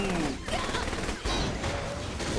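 Gunfire from the video game Saints Row The Third, with rapid, loud bursts of shots layered over constant game noise.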